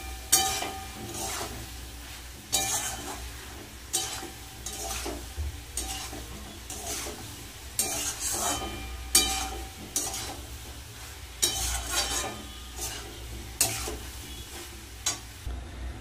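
Spice paste with turmeric and salt sautés in a pan, a continuous close sizzle broken by regular scraping strokes of a spoon stirring roughly every second, with no talking.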